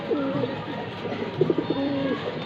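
Red khaki pigeons cooing close by, with several soft, repeated throaty coos over a low background hum.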